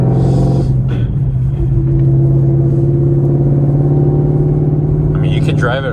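A car fitted with a stage 4 clutch revs as the gears are shifted, a loud steady engine drone that holds and changes pitch, with a second rise in the revs near the end.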